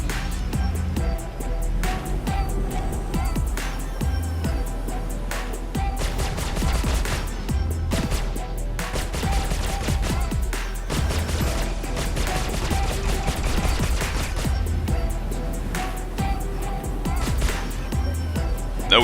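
Spaceship guns firing during a Star Citizen dogfight between a Drake Buccaneer and an Anvil Super Hornet, a loud, dense, continuous barrage of rapid shots over engine rumble.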